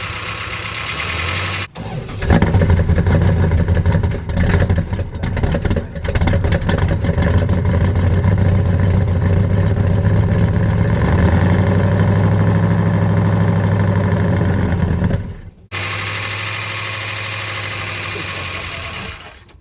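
A 1971 Dodge Charger Super Bee V8 running after 34 years idle, a loud close engine rumble with rapid ticking valve clatter, revving unevenly at first and then settling to a steady idle before cutting out briefly.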